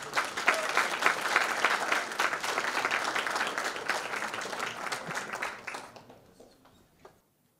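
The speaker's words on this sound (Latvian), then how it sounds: "tagad aicinām ar aplausiem uz skatuves Renē Ekošāru." Audience applause welcoming a speaker onto a stage, a full, dense round of clapping that holds steady for several seconds, then thins out and fades to silence.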